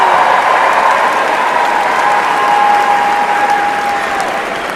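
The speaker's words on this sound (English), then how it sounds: "I'm going to applaud her anyway" Loud, sustained applause from a large crowd at a Hillary Clinton campaign event, a thick continuous roar of clapping filling the whole stretch with a faint tone running underneath.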